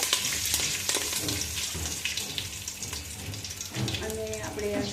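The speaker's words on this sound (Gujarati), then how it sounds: "તો વઘાર આપણે કરી લઈએ પૌવાનો." Spices and curry leaves temper in hot oil for Kathiyawadi potato poha, a loud, continuous crackling sizzle with faint voice-like traces near the end.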